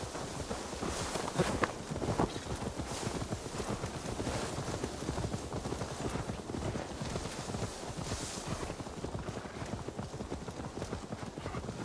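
Horse hooves clip-clop in a quick, steady rhythm throughout in the video game Assassin's Creed Valhalla, moderately close, with no voices.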